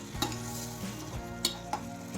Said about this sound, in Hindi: इधर हमारे पनीर फ्राई हो रहे हैं